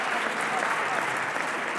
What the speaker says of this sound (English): the applause isn't for me